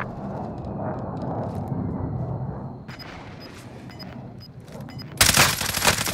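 Heavy burst of gunfire and explosive strikes from a called-in fire strike in a shooter video game, a sudden loud barrage erupting near the end after quieter rumbling and scattered pops.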